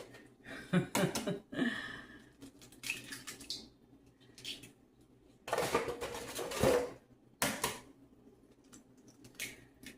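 Seven eggs are cracked for a breakfast tortilla bake, a string of sharp close taps and clicks with bowl clatter and brief drips between, no speech.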